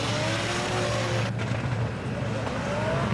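Drift car engine held at full throttle during a drift championship battle on the Yas Marina F1 track, a loud sustained roar with tyre noise and a commentator talking over it.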